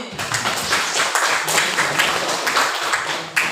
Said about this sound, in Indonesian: Tepuk tangan buat kelas ini.